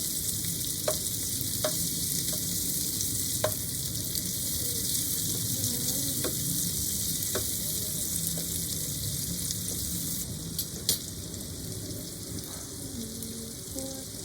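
Salmon sizzles steadily in butter and olive oil in a pan, a loud continuous frying hiss with occasional faint clinks, filling the whole stretch without talk.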